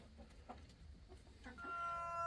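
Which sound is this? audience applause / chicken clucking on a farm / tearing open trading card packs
chicken clucking on a farm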